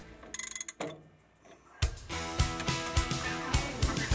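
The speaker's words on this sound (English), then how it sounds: "With the gland packing in place and the new lead tapers fitted, Earl carefully tightens up the collar." A collar tightened onto a shaft over gland packing and newly fitted lead tapers during a machinery restoration, heard as a quick burst of close metallic clicking, a pause, then a steady run of ratchet-like mechanical knocks.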